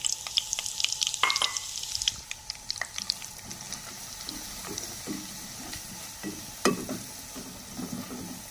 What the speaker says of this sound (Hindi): तो अब हम इसमें डालेंगे सूजी।